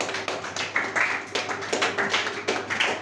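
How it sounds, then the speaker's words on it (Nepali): Students at a school event clap together in a group, a steady burst of close applause that lasts about three seconds. "एकचोटि जोरदार ताली बजाइदेऊ त"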